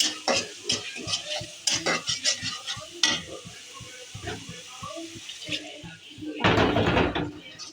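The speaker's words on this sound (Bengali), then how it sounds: "মরিচ দিয়ে কষিয়ে নেব" A spiced chili mixture is stir-fried in a pan with quick, uneven scraping strokes over a light sizzle, then a louder, wetter burst of sizzling near the end.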